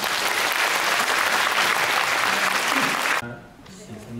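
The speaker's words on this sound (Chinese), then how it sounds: "我们护理人员是不是给自己一个掌声呢？" Audience at a nursing awards ceremony applauds loudly and steadily for about three seconds, then the clapping stops abruptly, leaving faint room sound and a voice.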